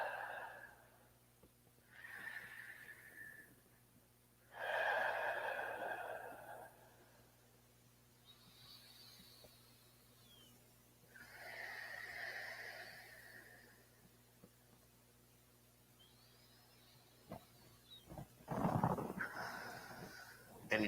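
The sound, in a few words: deep breathing during yoga forward fold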